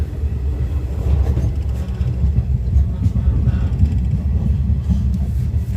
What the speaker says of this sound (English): the train now is heading out from this Gemas Station